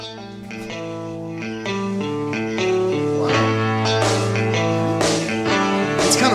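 A full band recording with a repeating guitar riff over piano and bass that grows fuller and louder, steady throughout and without talking.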